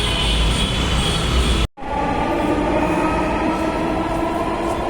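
A Dhaka metro rail train runs with a steady close rumble and hum, broken by one brief sharp dropout before the rolling noise and whine resume, with no talking.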